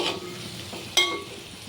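Onions fry in a pan for a chicken fry, a soft sizzle with one sharp spatula scrape near the middle.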